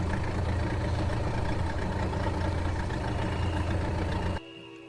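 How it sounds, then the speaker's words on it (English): A boat engine idles in the video game Syberia Remastered with a steady, loud, low rumbling drone, then drops abruptly to a quieter hum near the end. "It's a ghost engine noise."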